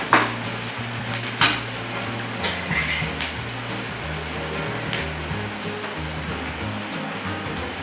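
Onions sautéing in a pan with a soft sizzle, punctuated by a few clanks of utensil against the pan and a low background hum, no talking.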